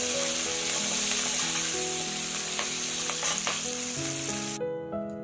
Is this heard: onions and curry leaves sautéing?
yes